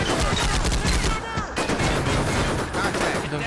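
Dense, continuous gunfire from the Combat Mission Shock Force war game fills the clip as a loud, steady rattle of many overlapping shots.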